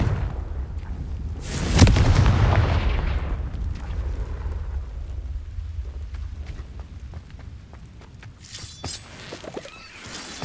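A Confringo spell detonates in Hogwarts Legacy, a loud booming blast near the two-second mark that rolls off into a long rumbling decay, followed by quieter crackles and a brief bright burst near the end.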